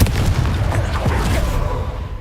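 In the Hogwarts Legacy video game, the Confringo blasting spell sets off a loud, booming explosion with a dense rumbling roar that fills the whole moment before slowly tapering.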